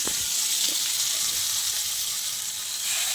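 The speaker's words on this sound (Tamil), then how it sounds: "தோசை சட்டியில் அப்படி போட்டு எண்ணெயில் போட்டு பொறிக்கிறதா" Marinated chicken fries in oil on a dosa pan with a loud, steady hiss and crackle, a sharp spattering burst at the start settling into continuous sizzling.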